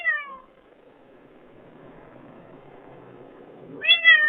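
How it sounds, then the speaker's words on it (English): An AI-generated cat meows twice, once briefly at the start and again near the end, separated by a quiet stretch. "the prompt is a cat meowing twice"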